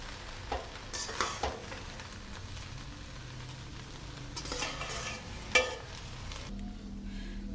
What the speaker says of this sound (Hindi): इनको हम अच्छी तरह मिक्स कर लेते हैं।